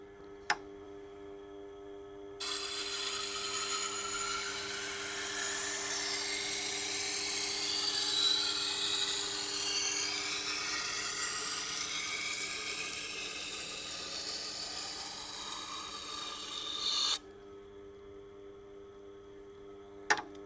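A brand-new Dexter chef's knife sharpened at 32 degrees on a motorized grinder, with a steady high whirring hiss of steel on the abrasive for about fifteen seconds between quieter motor hum, with a click at each end.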